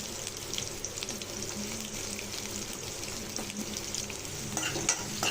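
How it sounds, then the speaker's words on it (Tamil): Small shallots sauté in a pan with a steady, close frying sizzle, broken by occasional stirring scrapes, as they cook for a poriyal with dried chillies. "இப்போ பொரியலுக்கு வெங்காயத்தை நல்லா வதக்கிக்கலாம்."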